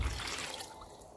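Water poured into a brine mix for fishing bait, a brief, faint splashing trickle heard close up with no voices.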